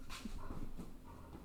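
A nearby dog whimpers and pants in short, uneven breaths and soft whines, fairly quiet and close, with no talking over it.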